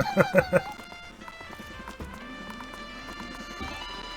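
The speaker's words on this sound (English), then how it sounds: "Can we actually ride the horse?" Rapid horse hoofbeats gallop in a quick burst in a Dreams PS4 game, then fade into lighter thuds beneath steady synthesized game music.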